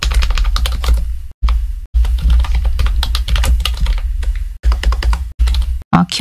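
Rapid clattering keystrokes on a computer keyboard, close and continuous, with a few brief pauses between bursts of typing.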